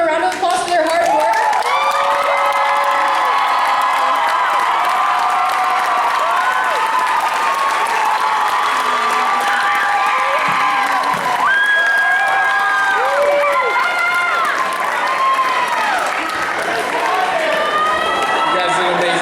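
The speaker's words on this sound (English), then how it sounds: "give them a round of applause for their hard work" An audience at the Mr Nighthawk 2016 pageant claps and cheers for returning contestants, with whoops and excited shouts rising and falling over continuous applause, loud and close.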